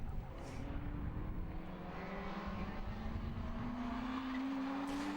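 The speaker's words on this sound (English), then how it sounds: "Prebble still leading the way in the world's widest Rover" Racing cars lapping a circuit at a 2011 race day, including a wide Rover, giving a steady, continuous engine drone with rising pitch as one accelerates, mid-distance and fairly constant in level, with no talk.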